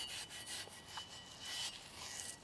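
Coarse metal abrasive scrubbing rust and an old coat off a kettlebell handle, a steady scratchy rasping of back-and-forth strokes, fairly close and moderately loud, with no voices.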